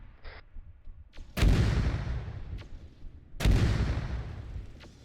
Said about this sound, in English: Ah, this one's shooting missiles at us.